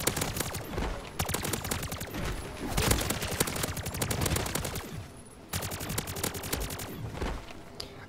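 Weapons fire in the video game MW3 Zombies: rapid, sustained automatic gunfire rattles almost without a break, loud and dense, pausing briefly once, with no talking.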